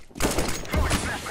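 A sharp burst of gunfire in the shooter game CS:GO, a couple of quick loud shots crackling over busy match noise.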